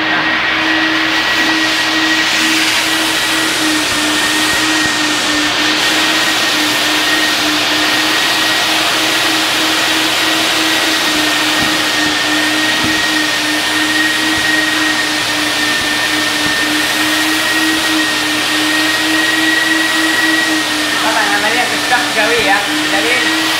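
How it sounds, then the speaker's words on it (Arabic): A 5-in-1 indoor carpet washing machine runs its vacuum suction, giving a loud continuous whooshing roar with a steady motor whine that holds unbroken for the whole stretch, with faint speech underneath. "بعد كده بتشغل المكنسة هنا وهنا"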